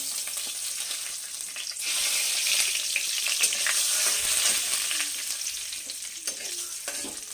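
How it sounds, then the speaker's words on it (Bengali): Panch phoron, bay leaves and dried chillies frying in hot oil for a Bengali mixed-vegetable curry with ridge gourd, a steady close sizzle that swells louder after the first two seconds, with faint occasional clinks and no voices. "এবার ওই তেলের মধ্যে পাঁচ ফোড়ন দিয়ে দিচ্ছি দুটো তেজপাতা শুকনো লঙ্কা দিয়ে দিলাম"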